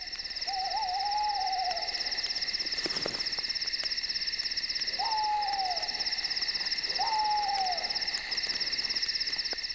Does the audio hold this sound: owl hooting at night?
yes